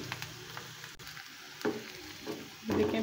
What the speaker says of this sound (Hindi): मैंने प्याज को फ्राई होने के लिए रख दिया